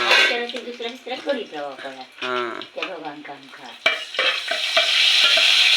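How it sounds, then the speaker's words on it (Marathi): An onion, garlic and curry leaf tempering crackles and sizzles in hot oil for a fish curry, a close frying hiss under a person speaking over it. "हा फोडणी तडतडली"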